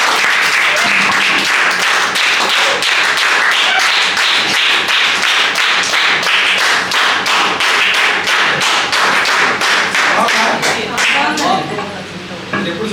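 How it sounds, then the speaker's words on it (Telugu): An audience at a prize distribution program in an Undavalli Bible school claps in a loud, brisk, steady rhythm for about twelve seconds before it thins out at the end. "నిజమే అంటే క్లాప్స్ కొట్టండి."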